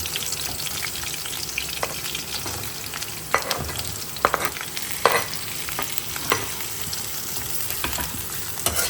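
Onions with green chili fry in a pan for a Naga-style beef innards dish, giving off a steady, hissing sizzle broken by repeated clicks and scrapes of stirring, with no speech.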